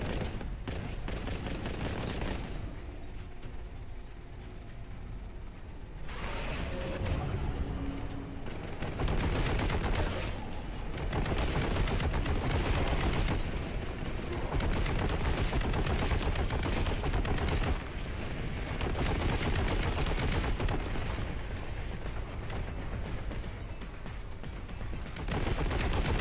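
Boltgun fire in the shooter game Warhammer 40,000: Boltgun, heard as loud, dense bursts of rapid shots and heavy impacts that run almost continuously, with only a short lull near the start.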